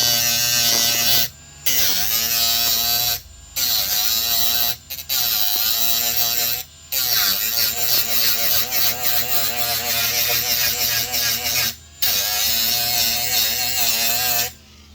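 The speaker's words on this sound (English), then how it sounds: "So he's grinding now the other one." A grinder works a dent flat on the body of a Honda CRX under restoration, a loud, close, high-pitched whine in repeated bursts separated by brief pauses, with no talking.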